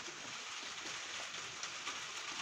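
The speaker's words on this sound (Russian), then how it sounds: "Ничего себе дождячок." Steady spring rain patters on surfaces close by, a soft continuous hiss with faint scattered drops and no voices.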